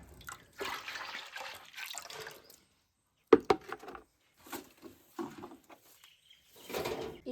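Rubber latex, water and acid poured and mixed for rubber sheet making: intermittent splashing and pouring bursts, with a sharp clatter midway and pauses of near silence between.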